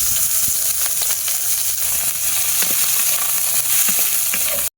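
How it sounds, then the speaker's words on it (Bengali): Bitter gourd (ucche) fries in hot oil for shukto, giving a loud, continuous close-up sizzle with occasional soft stirring clicks and scrapes. "এবার আমি উস্তাটা ভেজে নেবো।"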